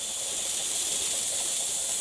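Pressure cooker venting a large, steady rush of steam, a loud continuous hiss that fills the clip without pause.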